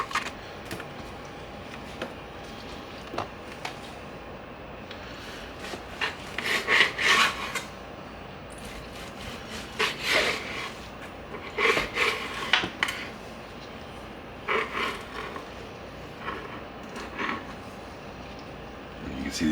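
A knife slicing through grilled picanha beef on a wooden cutting board: repeated close rasping strokes in uneven bursts across about twenty seconds, with occasional board knocks and no talking.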